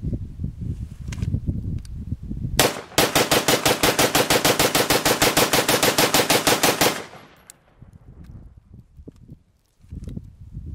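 Rapid string of gunshots strikes a steel RTS Tactical Level IIIA rifle special threats mini shield plate, a loud, evenly spaced burst of about twenty sharp cracks lasting four seconds, with quieter rustling and handling noise before and after.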